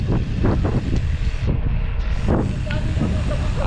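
Breeze buffeting the microphone during a bike ride on a flat provincial road near 7 Up Hills in Santa Maria, Laguna, a loud continuous rumble with gusts throughout.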